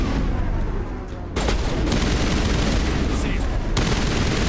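Sustained automatic gunfire from a magazine dump in the video game Mass Effect, a dense rapid burst of loud shots that starts abruptly and runs almost without pause, with little else audible.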